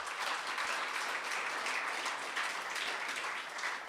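An audience at a send-off event applauds steadily, dense clapping that holds at an even level throughout with no pauses.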